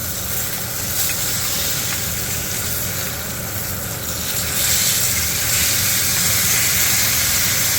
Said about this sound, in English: Look at that crust we made. And that hot sear.